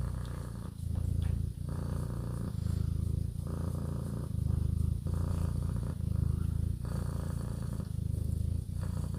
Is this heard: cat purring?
yes